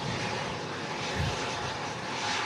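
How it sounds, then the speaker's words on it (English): A Virgin Atlantic Airbus A330-300 taxis at Manchester Airport in strong crosswinds, giving a continuous jet engine rumble and hiss at moderate level, mixed with wind noise and without talking. "it's got a Virgin Atlantic A330-300 on the taxi"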